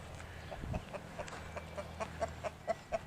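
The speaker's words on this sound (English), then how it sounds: "And my chickens are looking great," Backyard chickens cluck close by in a steady series of short, evenly spaced clucks over quiet outdoor background noise.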